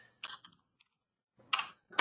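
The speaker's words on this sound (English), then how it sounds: "So I'm going to type in" A few quick clicks of typing on a computer keyboard while entering text at a Windows machine, sparse keystrokes with a gap in the middle, close and quiet.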